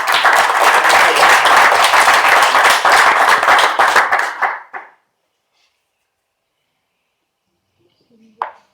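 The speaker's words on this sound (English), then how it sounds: "Let's give a round of applause to get this guy really excited" Audience applause at a startup talk, a loud, dense wall of clapping that lasts about four seconds, cuts off into silence and is followed by a faint, brief sound near the end.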